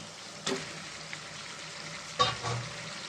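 Fish pieces dropped into an okra curry frying in a pan, giving a soft background sizzle with two brief splashy thumps and stirring noises, close and quiet.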